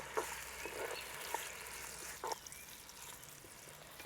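Tomatoes sizzle and fry in oil in a pot while cooking for a fish curry, a steady hissing crackle with occasional stirring clatters, close and moderately quiet, with no talking.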